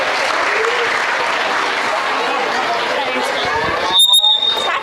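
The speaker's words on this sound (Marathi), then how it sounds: "चला तर मग जोरदार टाळ्या प्ले ग्रुपसाठी" An audience at a school annual function claps loudly and continuously for the play group, a dense wash of applause that ends with a short shrill squeal near the close.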